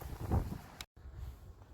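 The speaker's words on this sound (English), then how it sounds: "it's super windy outside. I'm sure you can tell that already." Gusty wind buffets the microphone with low rumbling bursts, strongest early on, then cuts out briefly before the blustery rumble resumes.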